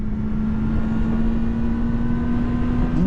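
A 2023 Kawasaki Ninja ZX-4RR motorcycle holds a steady, even engine tone while riding. The continuous drone stays close and unbroken for a few seconds, with no clear shift breaks.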